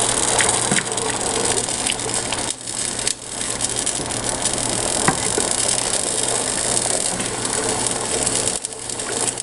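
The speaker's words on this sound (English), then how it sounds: "this is where you start pouring in your heated broth" Heated broth is poured into Parmesan risotto in a pan, giving a steady, close liquid gush with sizzling and stirring clatter that runs the whole time, plus a few scraping knocks and no voices.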